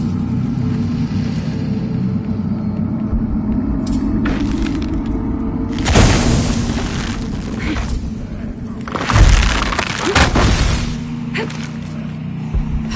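Explosion in the video game Shadow of the Tomb Raider: heavy booming blasts with crumbling, shattering debris, two main bursts rising over a constant low rumble, close and loud.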